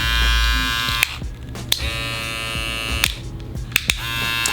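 A StyleCraft Rebel hair clipper running steadily close up, giving a continuous electric buzz and hum with a few faint clicks and taps over it.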